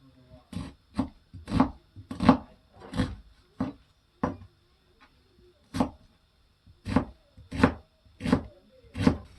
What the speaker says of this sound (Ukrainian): Я беру цибульку і дрібненько її ріжу.